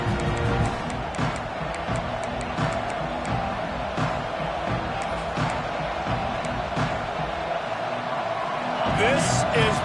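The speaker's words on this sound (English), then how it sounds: "This crowd ready to make its presence known" Football stadium crowd roaring steadily through the whole stretch, a dense sustained din with some rising shouts near the end, while a broadcast voice talks over it.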